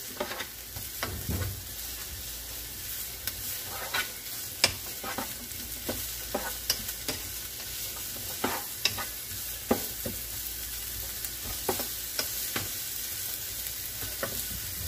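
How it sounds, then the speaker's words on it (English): Onions sauté in a pan for a Puerto Rican cubed steak and potato dish in salsa, a soft steady sizzle broken by repeated sharp scrapes and taps of stirring, fairly quiet and close, with no talk. "So you want to saute the onions until they're translucent"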